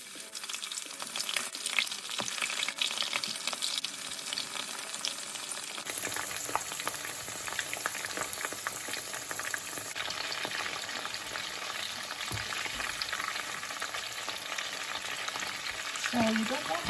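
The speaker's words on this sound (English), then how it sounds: "So now I'm going to fry the prawns here." Prawns fry in very hot oil in a pot on the stove with a steady, dense sizzle and crackle that shifts in intensity and is punctuated by occasional stirring clinks.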